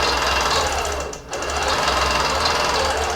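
A sewing machine runs steadily while stitching curved lines across the front of a quilt, a close, continuous mechanical whir with a brief dip in speed midway.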